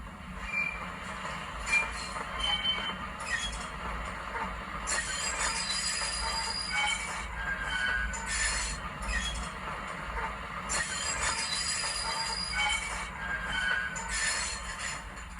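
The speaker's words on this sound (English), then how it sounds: "Flange squeal again." A DCC sound decoder on a Hornby model railway plays its flange squeal effect, a steady rolling rail rumble with high wheel screeches rising and fading over it, continuous and fairly loud throughout.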